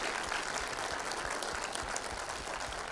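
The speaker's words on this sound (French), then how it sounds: "Et sans plus attendre, je vous demande d'applaudir chaleureusement Monsieur Franck Dubosc." A cinema audience claps warmly at a film premiere in Beauvais, a dense, even burst of applause with no speech.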